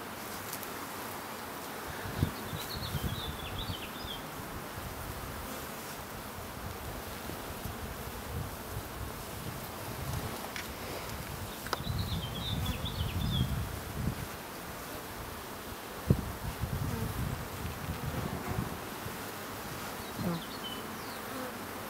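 Honeybees buzz steadily around an opened hive, a dense continuous hum of many insects close by with light rustling and a few soft bumps, no voices.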